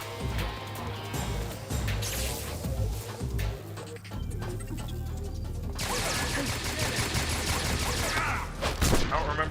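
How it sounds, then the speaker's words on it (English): Loud, chaotic bursts of gunfire and crashing effects in Metal Gear Solid 3, heavy and dense, with a voice mixed in at times. "I don't remember how to dodge the gunshots."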